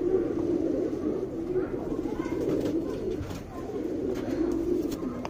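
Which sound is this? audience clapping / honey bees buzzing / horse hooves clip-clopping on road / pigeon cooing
pigeon cooing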